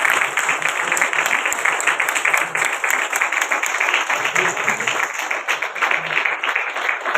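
An audience at a charity blanket distribution for widows breaks into loud, steady applause, a dense wash of clapping that carries on throughout, with a voice speaking faintly beneath it.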